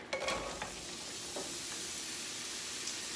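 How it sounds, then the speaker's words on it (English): Stir-fry vegetables sizzle steadily in a hot skillet, a soft continuous crackle with a few light stirring clinks near the start. "I'm going to go ahead and pour my vegetables into the skillet."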